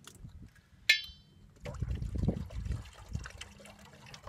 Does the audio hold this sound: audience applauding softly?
no